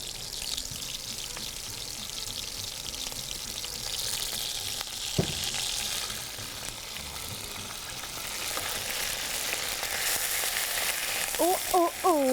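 Minced meat qeema with onion, ginger, garlic and green chillies sizzles loudly in a pan after a splash of water, a steady close hiss with stirring and a few light utensil clinks near the end.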